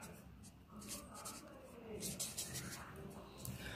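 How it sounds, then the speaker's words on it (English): Pen or chalk scratching out a math solution on a board or page, short intermittent strokes and scribbles in a quiet room, with faint speech in the background. "so I'll write it as solution"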